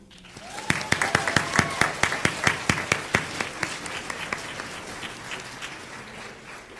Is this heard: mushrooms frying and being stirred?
no